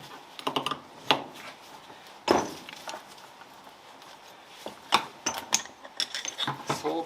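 A wrench loosens the nut fixing the end of a suspension rod on a Caterham Super Seven sports car, giving sporadic close ratcheting clicks and sharp metallic taps in short bursts, with quiet pauses between.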